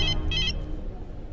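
A phone rings in a Hindi-dubbed film scene, two short electronic trilling bursts close by over a low background hum.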